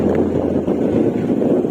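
A cool breeze blows across a quiet hillside spot at Shristinagar in Guwahati, a loud steady low rumble of wind buffeting the microphone with no voices.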